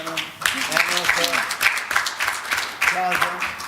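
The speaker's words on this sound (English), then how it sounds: "Let us applaud for everything now." Applause from a workshop audience fills the room, a dense steady clatter of clapping that swells and holds throughout, with voices talking over it.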